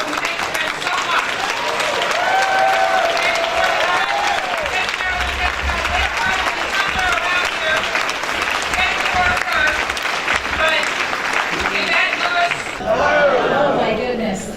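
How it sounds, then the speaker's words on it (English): A large crowd at a political event applauds steadily and loudly, with cheering and chatter mixed in, sustained throughout before a brief swell near the end. "please join me in giving them a round of applause and thank them so much"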